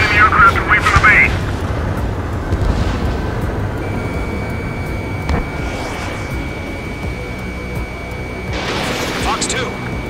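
Missile launches and explosions in the jet combat game Ace Combat 7, with a roaring engine drone, rushing whooshes and bursts of blasts over a loud continuous rumble, with radio chatter in places.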